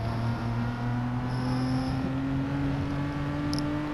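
A race car engine in a sim racing game at Spa, held at a steady, moderate drone rather than revved out, with faint high tones briefly above it and no voices.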